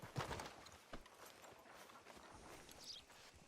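Horse hooves clip-clopping in the video game Red Dead Redemption 2, a few quiet, irregular thuds of a horse walking, faint and with no talk.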